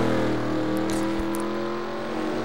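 Stock race cars, including a Buick, roar around the track in the final laps of a Busch Grand National race, a steady, loud engine drone with the strong harmonic whine of engines at speed and no speech.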